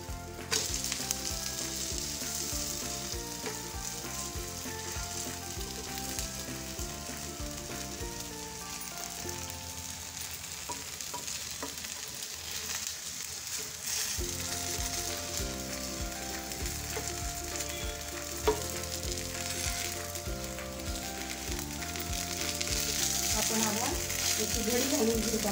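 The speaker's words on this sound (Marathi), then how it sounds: "आता हे दोन्ही बाजूने छान असं भाजून तयार झालेलं आहे।" A mixed-lentil ghavan pancake fries on a hot pan, giving a steady, close sizzle that runs unbroken and stays loud for the whole stretch, with faint clinks of a utensil now and then.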